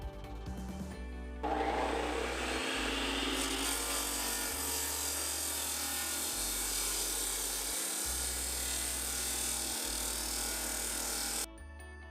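Power saw cutting concrete paving stones for a square paver patio, a loud steady high-pitched grinding whine that runs for about ten seconds with a low pulsing motor hum underneath, then stops abruptly.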